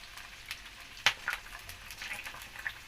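Onions fry in hot oil in a pan for koshari, a steady close sizzle and crackle with a few sharper pops.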